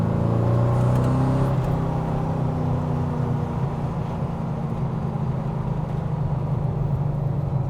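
A GT40 Tornado replica, a lightweight car with a big engine, gives a loud, steady low engine drone with harmonic tones that sweep in pitch early on, then settle into a continuous rumble with no talk.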